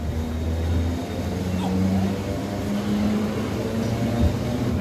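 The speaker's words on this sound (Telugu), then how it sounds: "ఆకివీడు స్టేషన్ నుండి మన ట్రైన్ అయితే బయలుదేరిపోయింది." A MEMU passenger train pulls out of Akividu station with a steady low engine rumble and drone, heard from inside the carriage over faint background noise.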